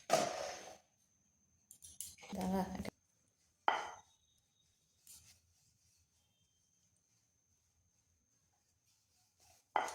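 Naan puri dough is rolled with a rolling pin, heard as a few soft rubbing and knocking bursts on the board separated by near silence, quiet and close.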